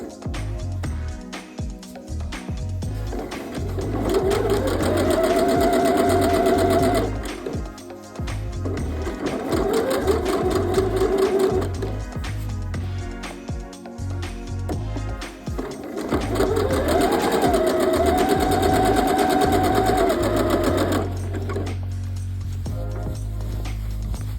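A sewing machine stitches denim for a dress in several long runs of steady mechanical whirring, separated by short pauses, loud and close with no talking.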